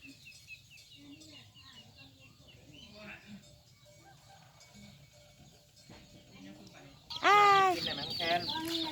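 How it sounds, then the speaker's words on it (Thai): Chickens clucking around a rural village home garden, faint and scattered under low background noise and quiet talk, then a louder burst of calls near the end. "ไก่ไก่พี่น้อง"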